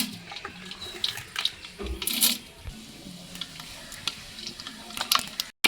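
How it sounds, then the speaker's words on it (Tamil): Mustard seeds spluttering and popping in hot oil in a pot, a scattered crackle of sharp pops with a soft, continuous sizzle underneath. "எண்ணெய் காஞ்சிருச்சு, கடுகு போட்டுக்கலாம்."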